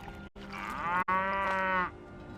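A cow in the Skyrim video game gives two drawn-out, resonant moos, a short one and then a longer, fuller call, close and clear with no talking.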